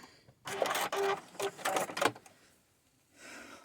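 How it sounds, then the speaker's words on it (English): A sewing machine re-stitches a short stretch of an upcycled boho fairy skirt in a few quick, close bursts of about a second and a half, then falls quiet. "I'm just going to go back and sew that one little bit"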